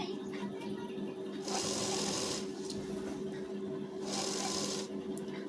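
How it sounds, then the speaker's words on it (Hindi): A sewing machine runs a line of stitching along the lower edge, attaching a saree border to a blouse, in two steady bursts close by, with a low constant hum between them. "एक सिलाई चलाएंगे नीचे साइड में।"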